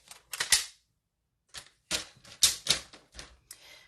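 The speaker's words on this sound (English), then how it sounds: "So I'm going to go ahead and use the trimmer. To cut my gray down a little bit." A paper trimmer slices through gray cardstock in short crisp scraping strokes, several quick close cuts separated by a pause, with no voices.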